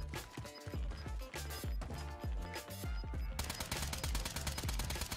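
Rapid bursts of automatic gunfire in a Call of Duty Warzone duos match, a dense run of sharp repeated shots building to a faster, continuous volley near the end, loud and close with no talking.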